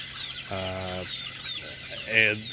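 Short, fairly faint clucks from a chicken, two brief harmonic calls with a sharper squawk near the end over light background noise.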